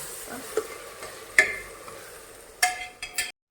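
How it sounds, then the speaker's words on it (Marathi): Tempering crackles in hot oil as a low, steady sizzle with a few sharp pops and clicks scattered through it, then cuts off abruptly; no voices over it. "फक्त फोडणी टाकतो"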